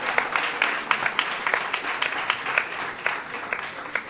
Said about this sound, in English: The first 200, round of applause